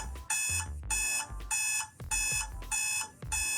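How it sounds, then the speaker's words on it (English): A kitchen timer alarm rings loudly and close by in repeated bursts of shrill, harsh beeping, about five pulses with short gaps between them, with no voices over it. "I don't like that timer sound."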